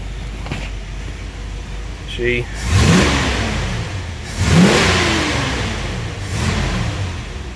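A 1974 Ford Bronco engine revs up in two strong bursts, each rising then settling back to a rumbling idle, with a brief voice early on.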